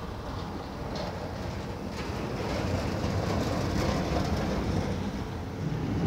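A passenger train rolls through the Eastern Carpathians on the Comanesti to Miercurea Ciuc line, heard from inside as a dense, steady rumble and rattle of wheels on track, with no talk.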